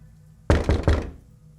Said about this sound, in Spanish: Pronto tocaron a la puerta 3 veces